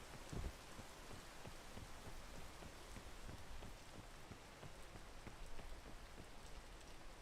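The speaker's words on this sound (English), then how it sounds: "Is it raining right now? Oh, it is." Steady rain pours in a video game, a dense, even hiss of drops hitting the ground with a soft thud near the start, continuing unbroken at moderate volume.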